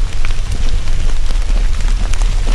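Cold rain during a Thanksgiving Day hike in Red River Gorge hisses steadily, loud and close, with a dense, even patter and a low rumble underneath.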